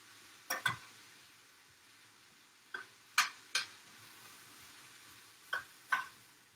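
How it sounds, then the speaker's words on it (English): Vegetables and tempeh get stirred in a pan, giving a few short, separate scraping knocks of a utensil in pairs against a quiet, faint sizzle. "Give our vegetables a stir."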